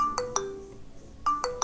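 The find-device alert on a Vibes Cacia smartwatch by Lifelong: a short melodic ringtone of quick chiming beeps that plays, pauses and starts again, close and clear with no voices.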